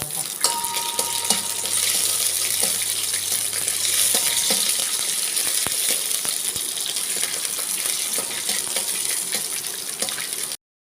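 Cashew nuts and raisins frying in a pan, a steady, close, bright sizzle with a few light stirring taps, and no talking.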